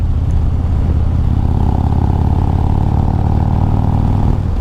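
A 2023 Harley-Davidson Road Glide Special with a Screaming Eagle Stage 2 engine upgrade pulls hard in sixth gear, giving a loud, steady, deep V-twin rumble from onboard over wind noise.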